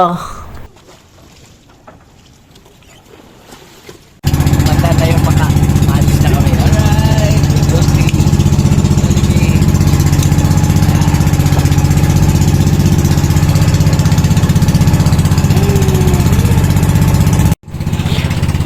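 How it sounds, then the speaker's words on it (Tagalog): A motorboat (bangka) engine starts up abruptly and holds a loud, steady, close-up drone as the boat departs, after a few quieter seconds of background talk. "At ito na nga ang bangka na sasakyan namin."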